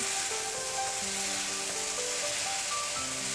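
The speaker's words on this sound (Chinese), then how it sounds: "大火再次翻炒均匀" Eggplant stir-fried with green and red peppers over high heat, a steady close sizzle and crackle of hot oil throughout, with faint background tones and no voices.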